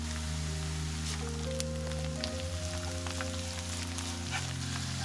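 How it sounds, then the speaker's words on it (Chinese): Shiitake mushrooms and wood ear fungus stir-fry in a hot pan, a steady soft sizzle and crackle like light rain running without pause under a sustained tonal background. "炒香后再加入香菇和木耳一起煸炒"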